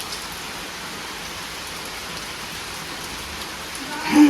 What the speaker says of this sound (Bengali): জীবনে এই প্রথম বৃষ্টি এরকম